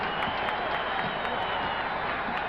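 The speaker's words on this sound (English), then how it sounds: "the Bullet fans here on the campus of the University of Maryland starting to cheer the home team" Basketball fans in a college arena at the University of Maryland cheering for the home Baltimore Bullets against the New York Knicks in 1973, a distant, steady crowd roar with scattered applause under a faint voice.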